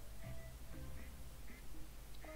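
Cartoonish duck quacks in the Coral Island farming game, several short nasal calls spaced across a steady low background hum, with no talking.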